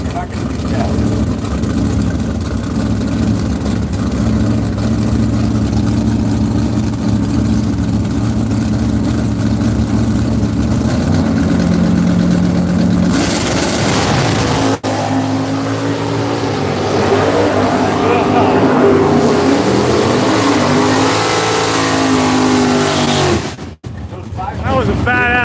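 A drag racing car launches at Seattle International Raceway, its engine droning loudly and then surging into a rising roar, with an announcer talking over it throughout.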